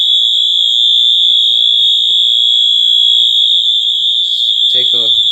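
A fire alarm horn blares during a system test, a loud, steady piercing tone held throughout, with a few faint knocks beneath it and a person starting to speak near the end.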